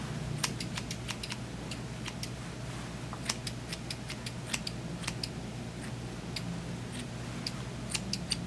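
Scissors snip at a shih tzu puppy's face fur in rapid, crisp, close-up clicks that repeat in an irregular rhythm over a steady low hum.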